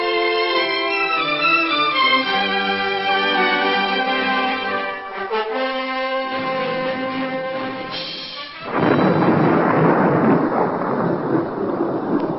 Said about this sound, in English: Looks like we're in for a bad storm.